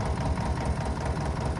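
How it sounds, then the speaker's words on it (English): A farm tractor engine runs steadily with a loud low rumbling chug and rhythmic knocking pulse, close by and alone without talk. "love the sound of this tractor so much"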